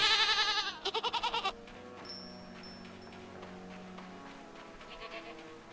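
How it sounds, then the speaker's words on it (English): Goats bleat in a video game, a loud wavering bleat followed by a rapid stuttering series, then quieter ambient game sounds with a faint bleat near the end. "I think it's the goats"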